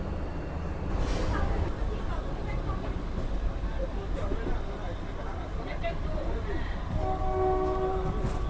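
A passenger train pulls out of a station at night, its rumbling wheels and carriages loud and close, with a horn sounding briefly near the start and again near the end.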